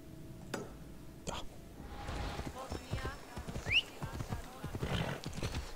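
Horse hooves clip-clop on the ground in Assassin's Creed Odyssey, a steady galloping rhythm with a short whinny partway through, heard under faint game ambience and quiet talk.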